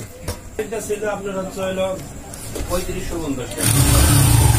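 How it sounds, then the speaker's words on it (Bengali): A TVS Star Sport motorcycle starting after engine repair work: a voice talks first, then the engine catches near the end and runs with a steady, loud, close rumble. "এখন নাট বোল্ট টাইট দিয়ে আমরা বাইকটিকে স্টার্ট করব।"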